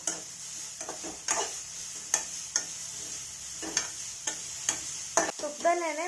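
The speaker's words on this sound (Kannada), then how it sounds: "ತುಪ್ಪದಲ್ಲೇ ಇದನ್ನು ಹುರ್ಕೋಬೇಕು" Grated carrot frying in ghee for carrot halwa, a soft steady sizzle punctuated by rhythmic scraping knocks of a spatula stirring the pan, close and without talk.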